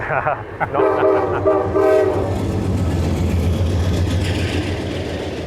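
A freight train pulled by a P42 locomotive sounds its horn in a couple of close, loud blasts, then a heavy rumble of rolling wagons carries on underneath.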